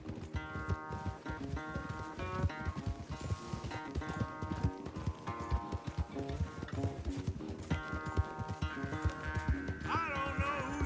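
A horse's hooves gallop steadily during a horse race in the video game Red Dead Redemption 2, the quick beats sitting under loud, continuous game music.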